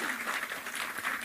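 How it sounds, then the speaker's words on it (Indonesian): A religious gathering audience applauds in a brief burst of dense, steady clapping from many hands at an outdoor pengajian event. "tepuk tangan dulu"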